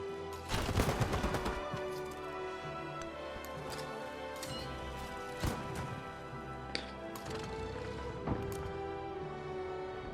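Video game gunfire rattles as units attack during a siege in Civilization VII, with bursts of shots and sharp cracks repeating over a steady musical backdrop.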